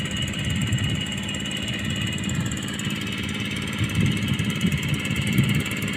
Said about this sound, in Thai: ใช้รถไถไถเองเลยครับนี่